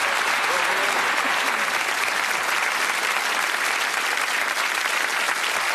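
A game show studio audience applauds steadily, a dense wash of clapping that stays loud and even throughout with no voices over it.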